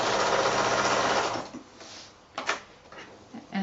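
A sewing machine stitches binding along the folded edge of a quilt, running in a fast steady buzz for about a second and a half before stopping, followed by a few soft handling clicks and knocks.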